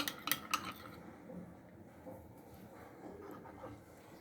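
A spoon clinks against a bowl a few times, then scrapes softly while raita of onion, cucumber and carrot is stirred, faint and close in a quiet kitchen.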